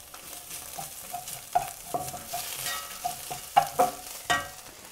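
Grated ginger hits caramelizing onions in a hot pan and sizzles steadily, with soft stirring scrapes and a few clinks of the utensil against the pan, close and fairly quiet with no talking.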